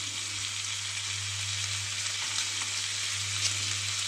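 Venison chops fry in butter in a pan over raised heat, giving a loud, steady, dense sizzle that holds without pause, close by, alongside a low constant hum.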